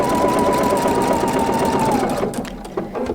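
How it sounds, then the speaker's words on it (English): A Pfaff Creative Icon sewing machine stitching a decorative satin stitch, a steady loud motor whir with a fast needle rhythm, slowing and stopping near the end. "now I can just go ahead and start stitching."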